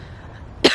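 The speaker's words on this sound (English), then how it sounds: "There's the cough." A single short, sharp cough bursts out at the very end after near silence, from a person who has just choked on air.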